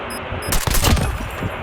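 Video game gunfire: a rapid burst of loud, close shots cracking in quick succession, with a short sharp first report followed by a dense rattle that tails off.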